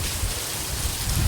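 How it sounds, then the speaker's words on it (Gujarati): Heavy rain pours down steadily outdoors, a continuous broad hiss of falling water with no voices. "પૂરા ફૂલ વરસાદ ચાલુ થઈ ગયો છે"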